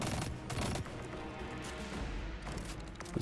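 Rapid gunfire and explosive bursts as enemy chieftains fire bouncy grenades during a Destiny strike, a dense, crackling fusillade that stays loud throughout.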